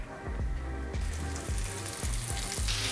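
Beef sears in neutral oil in a hot skillet, a steady, bright sizzle that runs the whole time. Regular low thumps about every half second sound beneath it, and nobody speaks.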